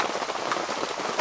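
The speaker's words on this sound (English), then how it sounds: "Rain, rain, more rain." Steady rain pattering on a surface around a tipi shelter, a dense continuous hiss of drops, brief and close.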